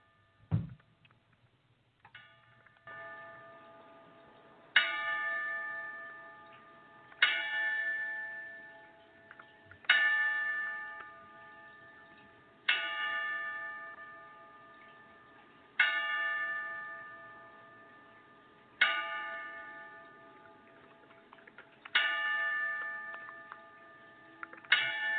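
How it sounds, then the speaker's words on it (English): Ten bell strikes rung one after another as a tribute to a deceased boxing legend, each clang ringing out and decaying before the next arrives at a slow, steady interval, with no talking. "So before we punch in, Jay, why don't we play 10 Bells for the Legend?"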